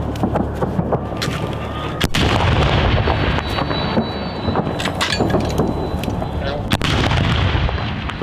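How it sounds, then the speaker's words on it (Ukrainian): An artillery gun fires at enemy positions during the defence of Bakhmut, with two sharp, loud blasts several seconds apart, each followed by a heavy rolling boom and rumble. "Постріл!"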